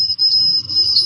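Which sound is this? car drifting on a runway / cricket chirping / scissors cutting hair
cricket chirping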